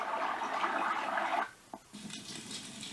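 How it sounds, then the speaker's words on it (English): Running water plays as a sound effect through a Jeazans A10 Pro tablet's speaker dock, a steady rushing wash that stops abruptly partway, followed by a click and a quieter, softer flow. "Another one here being running water."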